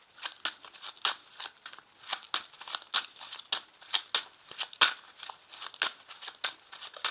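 A deck of Belline oracle cards handled and cut, a close run of quick papery flicks and slaps coming in irregular bursts, crisp and light with no voices.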